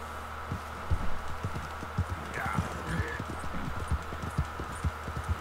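A horse's hooves clop and gallop in the Red Dead Redemption 2 video game, a steady rhythmic run of thuds with a brief whinny, while someone talks over it.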